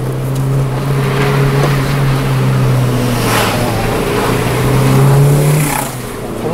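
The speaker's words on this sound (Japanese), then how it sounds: "この下りとかでもですね、あのすごくキビキビと走ってくれますね" A Volkswagen Lupo GTI drives downhill with a steady, close engine hum and tyre rumble that swell slightly and then ease off, heard from inside the car.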